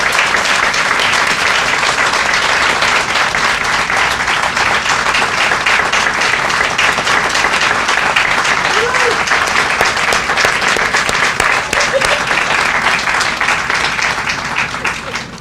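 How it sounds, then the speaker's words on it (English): Sustained crowd applause fills an outdoor groundbreaking ceremony for a town square at a federal center, dense steady clapping from many hands holding at full loudness throughout before easing slightly at the very end. "Can we give Thomas Himmler a round of applause?"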